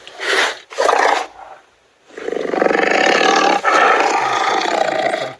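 A tiger from a 3D augmented reality animal app roars loudly: two short roars, a brief pause, then one long sustained roar with a slight break, close and alone.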